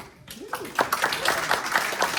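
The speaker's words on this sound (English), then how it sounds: "let's give that a round of applause." An audience applauds at a Riman Korean beauty company presentation in Irvine, with brief talk at the start before dense, steady clapping fills the rest of the short moment.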